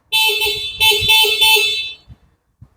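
Electric scooter horn on a Dragon electric bike, sounding in three loud, rapid electronic blasts with a brief gap between the first and second, then stopping, followed by faint handling clicks.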